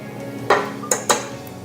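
A utensil knocks and scrapes against a bowl three times as brown and granulated sugar are mixed, short bright clinks over a steady room hum.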